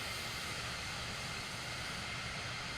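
A Cirrus jet flying low in Microsoft Flight Simulator 2024 makes a steady, loud engine roar that holds without a break and has no voices over it.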